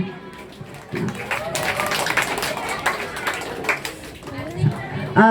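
A small group at a school reading event claps together, a scattered burst of applause mixed with chatter and voices, rising and then tapering off.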